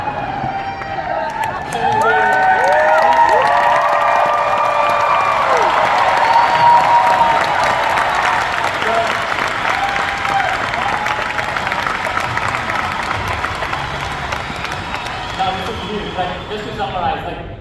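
A crowd claps and cheers at a real estate tech presentation, with whoops and shouts rising over steady applause that continues loudly before slowly thinning.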